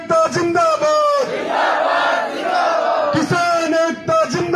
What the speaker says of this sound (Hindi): नारे लगा दो एक बार, किसान एकता जिंदाबाद